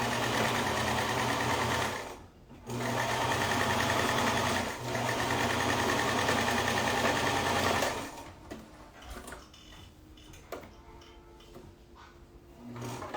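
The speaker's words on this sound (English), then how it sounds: "once I sew these two together, then I can sew the top of the hat to the outer part." A sewing machine stitches pieces of a hat together in loud, close, steady runs of rapid whirring that pause briefly twice, then give way to quieter handling and rustling toward the end.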